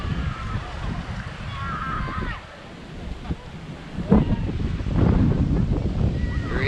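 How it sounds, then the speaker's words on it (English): Wind buffets the microphone while small waves wash in at the beach swimming area of the Hilton Hawaiian in Hawaii, with a person talking over the surf. "This is the beach swimming area"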